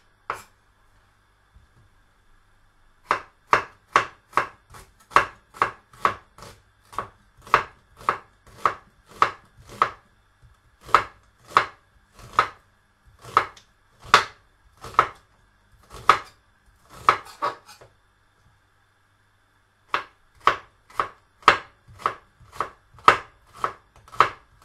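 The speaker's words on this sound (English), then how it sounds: "there's your onions, chopped, ready to go" A knife chops onions on a board for chicken curry, sharp even strokes in steady bursts separated by short pauses, close and crisp with no talking.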